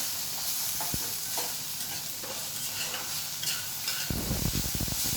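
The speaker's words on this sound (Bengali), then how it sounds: "ভাজাটা কিন্তু খুব মচমচে করে ভাজতে হবে।" Food frying crisply in a pan while being stirred, with a steady sizzle and scraping stir strokes, growing busier and louder near the end after a sugar pinch is added.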